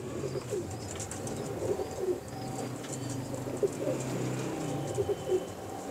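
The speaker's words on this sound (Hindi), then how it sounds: "बहुत शानदार कबूतर है माशाल्लाह" Several pigeons coo softly in low, throaty bursts over a quiet background hum, the calls repeating irregularly.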